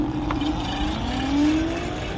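A homemade electric scooter accelerating from a standing start, its motor whine rising steadily in pitch over a couple of seconds, close and loud with background rumble.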